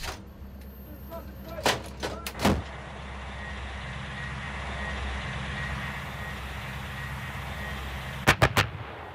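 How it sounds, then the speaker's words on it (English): A German PzH 2000 self-propelled howitzer fires, giving a few sharp, heavy booms early on and a quick cluster near the end over a low, steady rumble. "This is the PzH 2000, a German howitzer that is unsurprisingly over-engineered."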